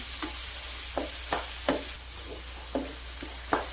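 Red chili powder is stirred into onion mutton (pyaz gosht) frying in a pan, giving a steady sizzle with a spoon scraping through it in short, evenly spaced strokes.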